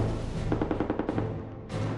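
Bursts of machine gun fire in a wartime setting, a rapid run of sharp repeated shots mid-clip over a steady rumbling background, fairly loud and close.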